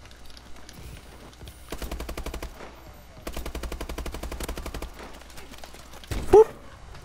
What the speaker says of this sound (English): Why do you keep shooting at him?